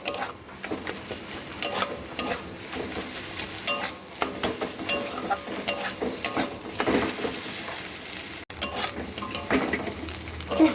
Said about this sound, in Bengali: ডিমটা দিয়ে এর মধ্যে মশলার সঙ্গে খুব ভালো করে একদম ঝুরঝুরি করে নেব